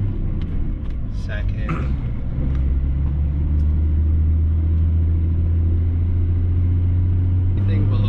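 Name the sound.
compound turbo 5.9L Cummins truck accelerating in gear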